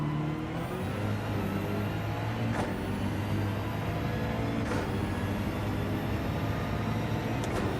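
A BMW race car engine in Gran Turismo 7 drones steadily at high revs, with whining sweeps rising and dropping as gears shift, loud and continuous throughout.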